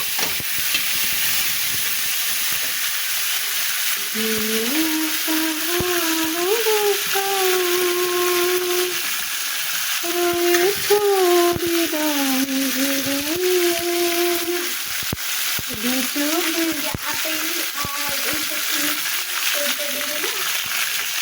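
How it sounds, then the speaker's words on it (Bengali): Eggplant fries in oil with cumin, salt and turmeric, a steady close sizzle with occasional stirring clatter, while a voice talks over it in stretches. "দিয়ে দিলাম, দিয়ে বেগুনগুলো ভেজে নেব। এবার একটু লবণ হলুদ দেবো"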